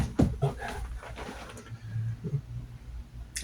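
A puppy whimpers in short, thin whines over a noisy indoor background, with a few soft cries spread across the moment.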